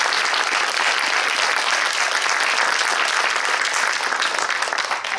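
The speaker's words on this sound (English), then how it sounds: "let's start off with some applause for the filmmakers" Sustained audience applause for the filmmakers at a Q&A session of a Silicon Valley Asian film festival screening, dense and steady for several seconds before tapering off at the end.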